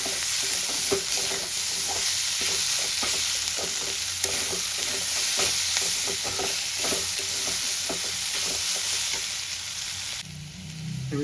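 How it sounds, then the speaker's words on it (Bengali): Potatoes and onions fry in a pan, a steady loud sizzle running throughout with repeated scraping stirs of a spatula, the sizzle quieting briefly near the end. "আলু আর পেঁয়াজটা কিন্তু ভালো করে ভেজে নিতে হবে।"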